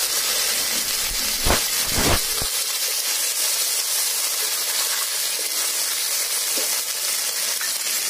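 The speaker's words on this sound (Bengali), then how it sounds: "তারপর এর মধ্যে আমি আদা আর কাঁচা লঙ্কা বাটা যেটা রেখেছিলাম সেটাকে দিয়ে দেবো।" Ginger and green chili paste hitting hot oil for an amla pickle, a loud, steady hiss of sizzling that follows a couple of brief clatters at the start and carries on unbroken.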